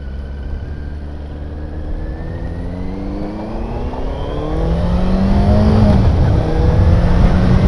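A Benelli TNT 600i motorcycle engine revving through a U-turn, a loud close roar that rises steadily in pitch and intensity with smooth sweeping tones as the throttle opens.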